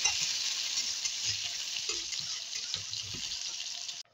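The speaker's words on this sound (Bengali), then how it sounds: "ভালো করে আমি একটু ভাজার মতো করে নেব" Chopped onions fry in sunflower oil, a bright continuous sizzle with soft stirring scrapes underneath, close and steady until it cuts off abruptly.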